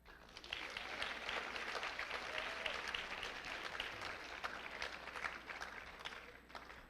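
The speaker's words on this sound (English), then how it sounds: "You can applaud them." Audience at an athletics recognition board meeting applauds a winning bowling team, sustained, fairly faint crowd clapping lasting several seconds in a roomy space.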